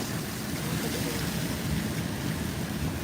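Rainwater flowing outdoors during a downpour makes a steady, loud rushing wash that holds constant throughout with no pauses and no voices.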